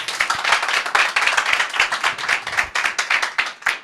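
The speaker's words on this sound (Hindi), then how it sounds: "एक बार फिर से ताली बजा के प्रभु को महिमा।" A gathered congregation claps in praise of God, dense and steady hand claps filling the room close and loud, with no voices over them.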